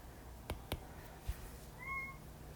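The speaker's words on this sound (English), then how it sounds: "I apologize for my cat crying in the background." A cat meows faintly in the background of a quiet room, with a few soft knocks and thumps earlier and low background hum throughout.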